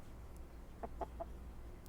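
Two chickens in a video game clucking softly, three short quick clucks in a row against a quiet background, with no talking.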